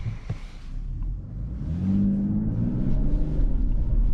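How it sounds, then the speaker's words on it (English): A 2024 Mercedes GLE AMG SUV engine revving up under throttle on a night drive, a steady low rumble that swells and holds at moderate loudness over about four seconds, no voices. "you can push more throttle and it goes easily"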